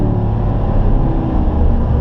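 A Corvette on a race track, its engine a loud, steady low rumble as the driver downshifts, with dense engine roar running unbroken and close throughout.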